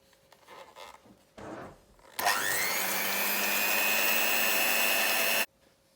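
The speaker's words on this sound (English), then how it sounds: "you then need to beat it with a whisk for 5 minutes" Eggs and sugar being beaten with a whisk, heard as a loud, steady mechanical whirr that starts abruptly after some brief bumps and runs evenly for about three seconds before cutting off.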